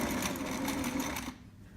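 Domestic sewing machine labouring through a thick trapper hat fabric, a fast close rattling stitch for over a second before it stops, leaving quiet room tone.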